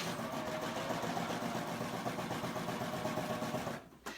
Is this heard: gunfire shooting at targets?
no